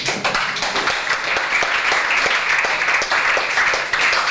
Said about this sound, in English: Please give a nice, warm round of applause for Silent.